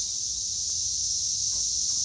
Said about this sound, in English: It's a cicada.